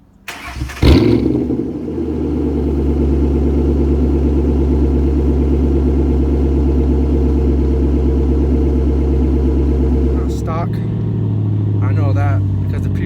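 A Ford Mustang fires up with a sharp crank and bark, then settles into a loud, steady, deep idle that rumbles on close by, with a brief shift in pitch near the end.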